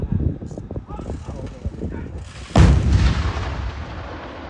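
A Thai army towed artillery gun fires a single loud, booming shot at a firing range, followed by a long rumbling decay, after a stretch of rough background noise.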